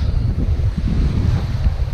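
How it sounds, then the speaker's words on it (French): Steady, strong wind roaring across the microphone on a sailboat beating close-hauled into a headwind, with continuous low buffeting and wave wash, no voices. "Parce que on a le vent dans le pif."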